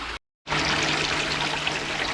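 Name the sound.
water flowing through a gold sluice trommel from 1100 pump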